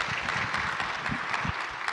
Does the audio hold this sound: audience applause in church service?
yes